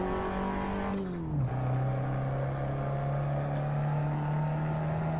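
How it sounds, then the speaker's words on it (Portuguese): A Fiat Fiorino LX in a racing video game accelerates at Laguna Seca, its engine note dipping briefly at a gear change and then droning steadily at a sustained pitch, loud and alone with no talk. "Vamos dar nossa acelerada aqui na reta inicial."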